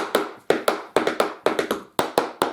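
Quick tap dance steps, crisp metal taps in a steady alternating rhythm, close and bright with no talking.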